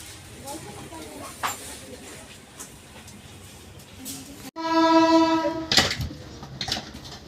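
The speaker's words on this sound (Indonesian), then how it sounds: "Kereta diberangkatkan lagi dari stasiun Tebing Tinggi ini" KA Bukit Serelo economy train pulling out of Tebing Tinggi station on the Lubuklinggau–Prabumulih run, with station murmur and talk, then a loud, sustained horn blast partway through over rolling rail noise.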